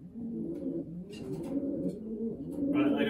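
Pigeons coo nearby in a loft, with low, rolling throaty calls repeating steadily under quiet background talk.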